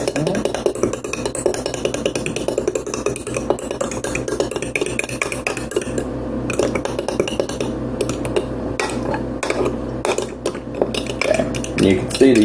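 An egg mixture for French toast is beaten and mixed in a bowl, giving a steady stream of quick clinking and scraping strokes under a low kitchen hum, with someone talking intermittently.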